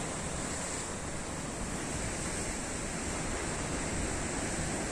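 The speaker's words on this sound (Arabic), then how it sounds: "البحر جميل" Sea surf breaking steadily on the shore at a fishing spot, a loud, continuous wash of waves with wind across the microphone and no voices.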